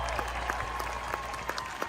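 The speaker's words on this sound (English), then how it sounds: "I'm going to give her the applause." Brief, fairly faint applause from a small group, a short patter of clapping over a low hum.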